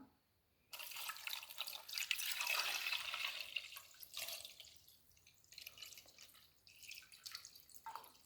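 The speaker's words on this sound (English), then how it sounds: "We cover it with water." Water poured from a tap or jug over chicken in a cooking pot for rice and chicken, a steady close splashing fill lasting several seconds and easing toward the end.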